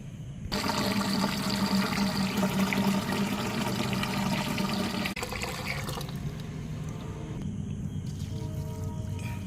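Water rushing steadily into a container of homemade liquid fertilizer for a rooftop garden, loud and continuous at first, then easing to a lighter flow as it fills.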